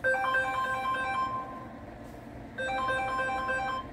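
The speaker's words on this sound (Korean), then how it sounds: "또 전화 오네" A melodic electronic phone ringtone plays loudly and alone, pausing briefly in the middle before repeating.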